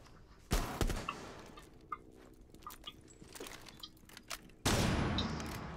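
Gunfire in the Rainbow Six video game: a few loud bursts of shots, one sharp volley early and another near the end, with scattered fainter shots and in-game effects in between.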